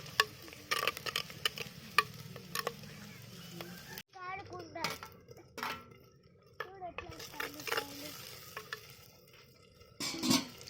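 Chicken is stirred as it fries in a clay pot outdoors in a village, with a run of quick scraping strokes, then sparser scrapes and knocks under a soft sizzle while people, including a child, talk nearby.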